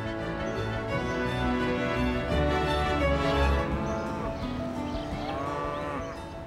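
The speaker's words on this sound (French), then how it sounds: "Il élève des vaches mirandaises, que l'on appelle des bœufs nacrés du Gers." Mirandaise cattle, the pearly oxen of the Gers, moo in long, low, overlapping calls outdoors on a rural farm, with several animals lowing near and at a distance.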